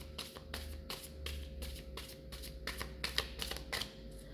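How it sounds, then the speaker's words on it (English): A deck of cards is shuffled by hand, a rapid, even series of crisp riffling bursts roughly every quarter second over a low steady hum, close and fairly faint, with no talking. "So first I'm going to clear the cards."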